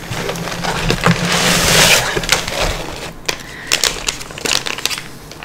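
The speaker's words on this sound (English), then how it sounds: "Here's some crinkles." Plastic and tissue items from a gift bag crinkling and rustling close up, irregular crackly handling sounds that swell and fade over several seconds, with small taps and clicks and no talking.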